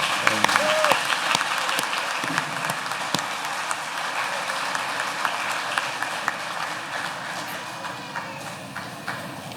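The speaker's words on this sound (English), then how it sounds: "so you can all clap really loud" A high school graduation crowd claps loudly and continuously, dense applause with scattered sharper claps and some cheering that slowly eases.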